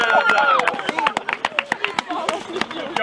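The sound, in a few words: applause for a man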